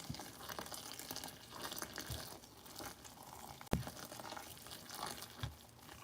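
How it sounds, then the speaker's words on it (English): Steaming hot water pours from a kettle into a bowl of chapati flour while it is stirred with a cooking stick, giving a steady, close trickling wash with one sharp knock partway through. "Using a cooking stick, put in your hot water."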